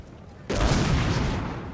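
A sudden loud burst of video game artillery fire in a Napoleonic battle erupts and rumbles on, dense and booming, after a quiet stretch.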